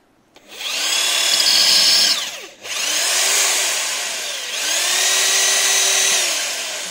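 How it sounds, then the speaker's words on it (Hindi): A Cheston 13mm rotary impact drill bores a hole in wood with a loud, close, steady motor whine in three sustained runs, broken by a brief dip where the motor slows and restarts. "पहले मैं वुड में होल करके दिखा देता हूँ"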